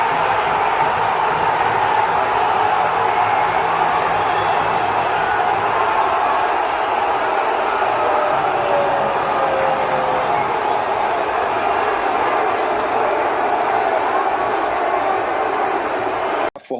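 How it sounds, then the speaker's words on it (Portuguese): Vasco da Gama supporters in a packed stadium, a dense, sustained roar of crowd noise and chanting that stays loud and continuous throughout before cutting off abruptly at the end. "E olha a festa que eles tiveram a oportunidade de presenciar e de jogar para a maior torcida do Brasil"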